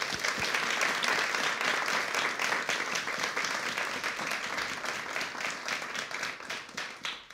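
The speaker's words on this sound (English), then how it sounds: "Can we have a round of applause for the scientists, please?" An audience at a museum science briefing on the 2017 total solar eclipse applauds the panel of scientists; sustained, even clapping from many people, somewhat distant and soft, running the full seven seconds.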